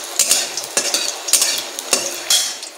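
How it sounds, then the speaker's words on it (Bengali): Dried red chilli, garlic and nigella seeds fry in hot oil in a home kitchen, a steady sizzle broken by the scrape and clink of a spoon stirring the pan in short, repeated strokes. "এর মধ্যে দিয়েছি হচ্ছে শুকনো লঙ্কা আর হচ্ছে রসুন আর কালো জিরা দিয়ে ভাজছি"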